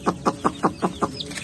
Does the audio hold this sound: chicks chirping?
yes